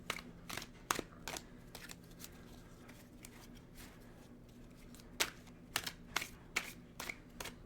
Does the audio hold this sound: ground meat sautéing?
no